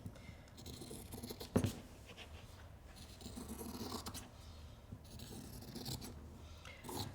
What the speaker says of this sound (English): so I'm just going to use it with scissors today